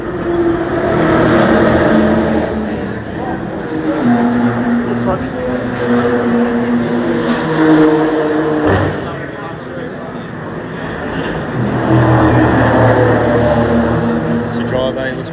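A race car engine drones and revs in a pit lane during an endurance race, a loud, continuous motor sound that swells and dips, with voices talking over it.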